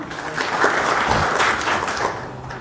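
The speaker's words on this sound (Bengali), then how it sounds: "একটা হাততালি রাউফের জন্য জোরে" Audience applause for a performer at a Bengali stand-up comedy function for Kalkutta Komedians at the Grand Hotel, organised by Dell; a dense, steady roar of clapping fills the hall for a few seconds without letting up.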